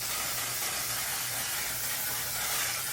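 A steady, close fine-mist hiss of a makeup setting spray bottle runs continuously for a few seconds, with no talking.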